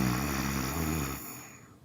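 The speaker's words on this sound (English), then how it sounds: "And with the inhalation, it's a gentle snoring sound." A soft, throaty snoring-like breath drawn in during a yoga exercise, heard close and steady before it fades out toward the end.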